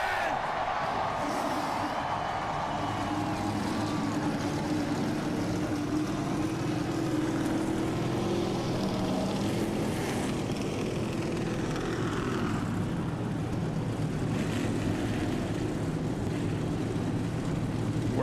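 NASCAR stock car engines at the Richmond, Virginia race, a dense continuous roar of many engines, loud and sustained with rising and falling tones, a mass of motors heard together with no clear speech.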